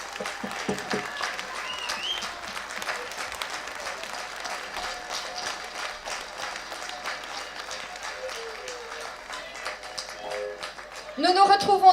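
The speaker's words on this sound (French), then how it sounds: "Je vous propose d'applaudir les battants pour leur témoigner leur courage et les encourager." An audience applauds for cancer fighters at a Relay for Life opening ceremony outdoors, with sustained dense clapping from a crowd, a voice talking over it, and louder cheering noise rising at the very end.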